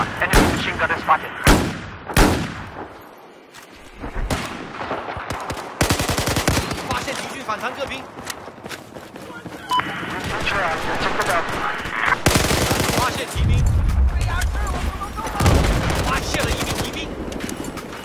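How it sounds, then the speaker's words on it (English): Enemy machine gun in a video game firing, with heavy bursts and sharp repeated shots mixed with loud booming impacts in a chaotic battle soundscape. "enemy machine gun is spotted"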